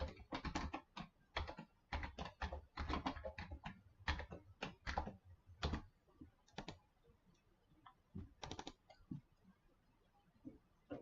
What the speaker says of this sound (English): let's go back up to our data set and type this in